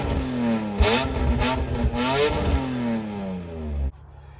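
A BMW E46 M3 on its standard exhaust revs repeatedly from close by, with three or four sharp throttle blips rising and falling over a raspy idle before the engine cuts off abruptly.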